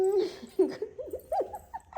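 A dog whimpers in a string of short, high, wavering whines and yips, fairly close and clear, with brief pauses between cries and a faint low background hum.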